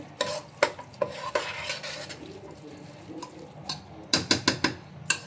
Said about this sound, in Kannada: ಮಸಾಲೆ ಎಲ್ಲ ಅಕ್ಕಿಗೆ ಚೆನ್ನಾಗಿ ಹಿಡಿಬೇಕು. ಸೊ ಅಲ್ಲಿವರೆಗೂ ಸ್ವಲ್ಪ ಕೈ ಆಡಿಸ್ಕೊಡಿ.